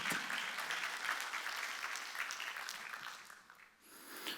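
A church congregation at a Wednesday worship service claps together in a dense, steady wash of applause that thins and fades near the end, with no voices over it.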